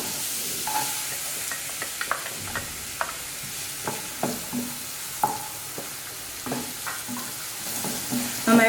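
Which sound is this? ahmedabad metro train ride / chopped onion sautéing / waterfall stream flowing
chopped onion sautéing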